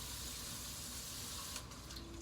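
Tap water runs steadily into a pot of chickpeas, a quiet continuous splashing hiss that shifts slightly in tone near the end as the pot fills, with no voices.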